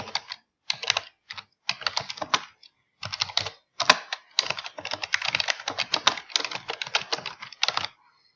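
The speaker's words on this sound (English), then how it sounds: "we're going to type the title" A title being typed on a computer keyboard, bursts of rapid close key clicks separated by short pauses, with a few heavier single key presses, and no talking.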